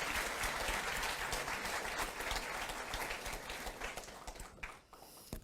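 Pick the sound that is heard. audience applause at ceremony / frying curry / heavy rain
audience applause at ceremony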